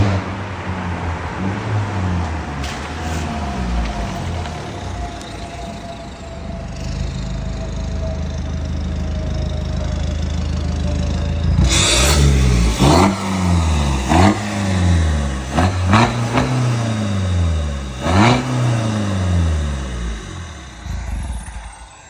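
A BMW F36 420d diesel with a remote-controlled performance exhaust idles, then revs hard several times in quick bursts, each rising and falling, with a throaty exhaust roar close by.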